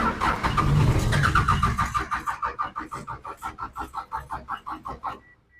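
Old skid steer that sat unused for many years, its engine cranking over on a weakening battery in a rhythmic, slowing series of loud turning pulses before stopping.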